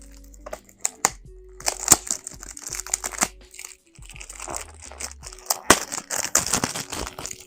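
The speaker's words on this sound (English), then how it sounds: "We'll unbox this one." Packaging for a Bvlgari Man fragrance is unboxed, with a close series of crinkling, tearing and crackling sounds and sharp snaps as the box and wrapping are handled.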